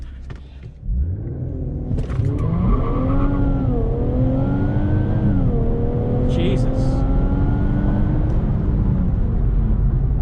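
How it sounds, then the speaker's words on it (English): A car engine with a tuned VR30 twin-turbo revs up and accelerates hard with a rising whine and rushing intake air noise from the front, loud and close; a man briefly exclaims near the start. "I heard a like a air noise in the front while accelerating there."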